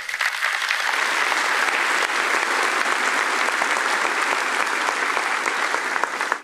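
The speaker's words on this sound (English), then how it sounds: "Let's give them a big round of applause." Loud, sustained applause from a large keynote audience, steady clapping that swells in and continues throughout without voices.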